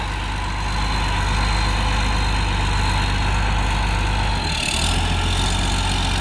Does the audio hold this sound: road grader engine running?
yes